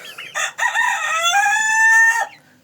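A turkey gives a loud, close, drawn-out gobbling call lasting about two seconds while being fed cabbage, with a few short clucks before it.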